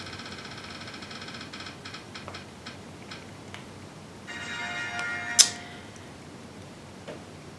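A prize wheel spins with a quick run of ticks that slows to sparse, spaced clicks, followed by a brief brighter rattle near the end, heard fairly close in a quiet room.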